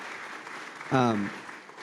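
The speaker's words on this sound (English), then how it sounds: "One more huge round of applause for these folks." An audience at a Bitcoin conference panel applauds steadily, with dense, moderately loud clapping throughout and a short spoken phrase breaking in midway.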